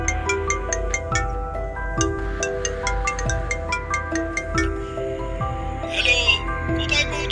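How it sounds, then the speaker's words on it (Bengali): A phone ringtone plays as a sound effect in a Bengali ghost audio story, a loud repeating melodic chime pattern that runs throughout and ends with a brief rustle. "তারপর ফোনটা বেজে উঠল"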